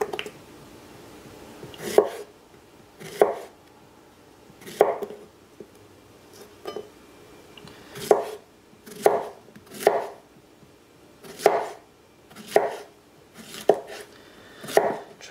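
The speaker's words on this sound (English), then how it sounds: "Now we can start to cut the zucchini." A knife slices through zucchini on a cutting board, about a dozen crisp, close chops at an uneven pace with short pauses between cuts, quiet surroundings and no talking.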